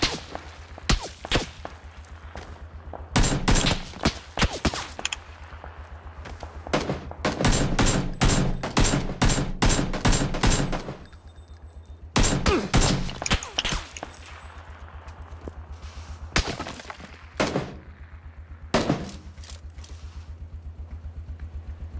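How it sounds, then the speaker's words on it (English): Loud bursts of rapid gunfire from a video game, in repeated volleys separated by short pauses, with a low steady hum underneath. "Gunshots are so loud down here for some reason."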